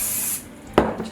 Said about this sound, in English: give them another little spray with a little bit of oil